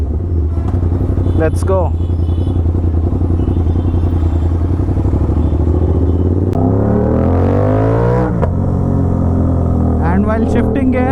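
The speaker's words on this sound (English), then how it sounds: "Oh my god, this exhaust is super loud, guys." An Aprilia RS 660 fitted with an SC Project full titanium exhaust roars loud and close, holding a harsh idle-to-mid rev before a sharp climbing rev and bursts near the end, with someone speaking briefly over it.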